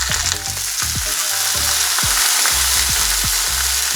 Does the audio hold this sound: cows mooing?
no